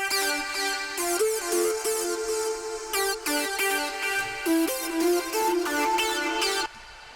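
Distorted acid synth sequence from a psytrance preset bank in Serum, a busy, buzzing, resonant pattern of rapid repeating notes running continuously and loud, with no talking.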